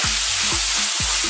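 Bacon sizzles hard in a pan over fairly high heat, a dense, loud continuous crackle with a few low thumps of stirring, no voices.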